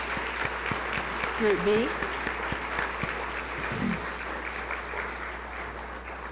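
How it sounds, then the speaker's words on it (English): Audience applause at a scholarship ceremony for a group of award recipients, a steady wash of clapping that carries on throughout while a voice speaks over it. "Let's have another round of applause for Group 2."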